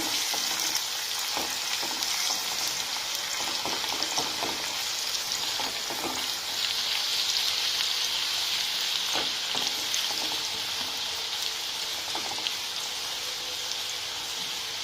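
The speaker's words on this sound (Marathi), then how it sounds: "दोन मिनिटं तेलात छान भाजून घेऊया गुलाबी होईपर्यंत" Chopped onions fry in oil for a Marathi brinjal masala, giving a continuous, bright sizzle close by with repeated spatula scrapes and stirring knocks throughout; no talking.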